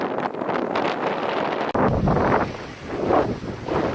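Strong wind roars across the microphone aboard a sailboat on a cruise off Branford, Connecticut, steady and loud, with water rushing against the hull underneath.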